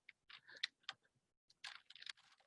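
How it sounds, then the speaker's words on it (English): Text typed on a computer keyboard: two quick bursts of light clicking keystrokes separated by a short pause, faint and close with no talk. "And then I'm going to type something like"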